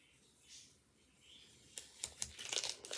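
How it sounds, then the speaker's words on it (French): Quiet rustling and a few sharp crinkles of fragile paper being slowly and carefully peeled off a handmade card, building into a denser tearing rustle near the end. "je retire délicatement pour pas arracher le papier"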